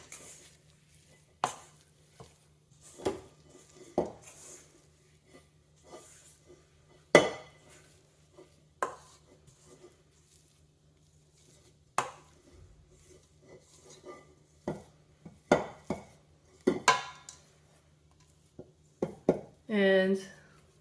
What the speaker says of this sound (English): Make sure you scrape up all the dough from the bottom